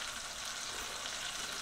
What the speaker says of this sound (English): double fry the basil and the chicken for the extra crispiness. Ooh, look at that. I'm still frying my second batch,